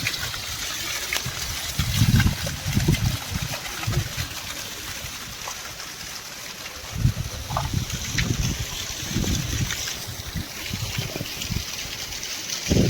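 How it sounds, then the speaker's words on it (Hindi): Artificial waterfall at a water park in Chandigarh, with water released from above: a steady close wash of falling water runs throughout, with low thumping bursts from handling or wind noise and no talk. "ऊपर से पानी छोड़े जाते हैं"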